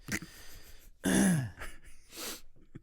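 A few quiet coughs and throat-clearing sounds close by, one stronger hacking cough in the middle with softer ones around it.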